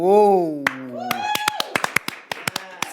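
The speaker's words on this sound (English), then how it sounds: "Slow clap." Slow hand clapping, a string of sharp, evenly spaced claps that starts while a voice is still speaking and continues close and loud on its own.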